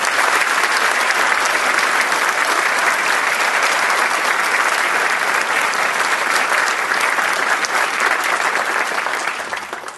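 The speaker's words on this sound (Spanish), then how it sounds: "acompáñenme a recibir con un caluroso y muy fuerte aplauso a don Hernando de Soto" Strong, sustained applause from a conference audience welcoming speaker Hernando de Soto, loud and dense throughout before tapering off at the very end.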